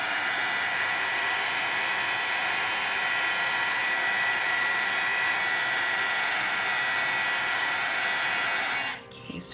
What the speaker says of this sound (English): Now I'm bringing in my soldering mat because this will handle the heat of the embossing gun.